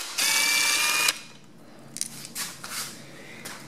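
A power tool whirs in one steady burst of about a second while 10mm bolts come off a dirt bike's valve cover, followed by a few light metallic clicks and handling noises.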